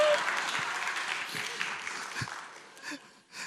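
A church congregation breaks into applause, a broad steady wash of clapping that slowly fades, with a voice speaking over the tail end.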